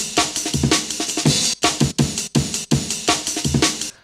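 A drum and bass tune rebuilt on a sampler with a couple of zones plays loud and close, with punchy breakbeat drums in a fast choppy rhythm and brief dropouts between phrases.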